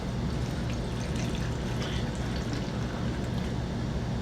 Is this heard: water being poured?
yes